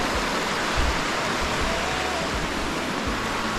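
Creek water rushing steadily nearby, a dense, continuous hiss and burble without pauses or voices.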